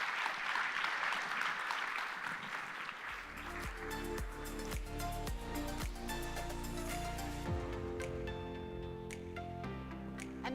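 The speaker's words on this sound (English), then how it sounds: "Another round of applause for that panel, please." A conference audience at the SXSW 2023 food summit claps for a panel, a broad wash of applause that soon gives way to music.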